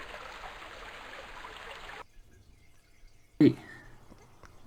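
Liquid poured from a vial in the video game Fatum Betula: a steady hissing pour runs for about two seconds and stops abruptly, followed by a brief, louder splash a moment later.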